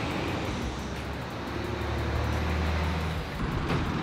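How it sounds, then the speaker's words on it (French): A bus passes along a quiet residential street in Japan, its low engine drone swelling steadily toward the middle and fading at the end, with no one talking. "Un bus qui passe"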